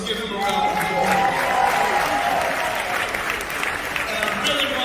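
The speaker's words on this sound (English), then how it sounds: "Let's give him a round of applause." Audience at a Hip Hop Alliance gathering applauding, a sustained wash of clapping with a murmur of crowd voices and whistles mixed in, fairly loud and even.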